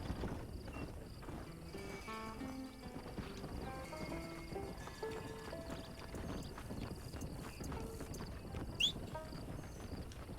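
Horse hooves clip-clop in rapid, even beats as a rider travels in Red Dead Redemption, set against game music, with a short whinny near the end.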